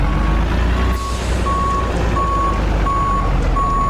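Reversing beeps from a car transport truck in a simulator video game sound as a loud, evenly spaced series of about five tones over a steady low engine rumble.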